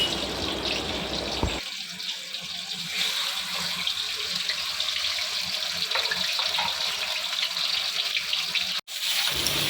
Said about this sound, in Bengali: আমি এক এক করে মাছগুলো কড়াইতে দিয়ে ভেজে তুলে রাখবো।